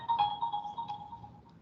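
A phone rings during a lecture on permutations, a steady electronic ringtone with a strong sustained tone, repeating in pulses for under two seconds at moderate volume with no talking.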